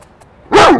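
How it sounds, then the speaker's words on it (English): A dog gives one sharp, loud bark at close range after a near-silent moment. "There's a dog."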